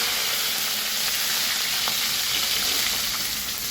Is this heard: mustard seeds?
yes